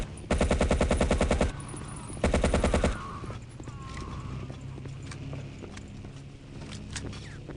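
Machine-gun fire in the video game Battlefield 1942 comes in two loud, rapid bursts close up, followed by quieter game ambience and distant battle noise.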